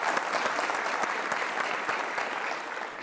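Audience applause in a television talk-show studio for a musician, a steady dense clapping sustained for several seconds and easing slightly toward the end, with no speech over it.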